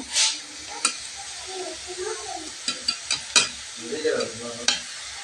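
Leafy greens (shak) fry and dry out in a pan, a soft steady sizzle broken by repeated scraping stirs and light clinks of a spatula, close by, with a voice talking faintly underneath.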